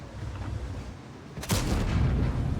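A tank's main gun fires once in a tank combat video game, a single loud boom about halfway through that leaves a rumbling roar, heard alone over game ambience.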